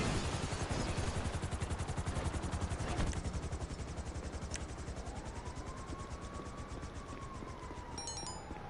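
A helicopter in the video game GTA thrums steadily throughout, its rotor chop forming a dense, regular pulse, with a faint rising whine in the second half and a few sharp clicks near the end.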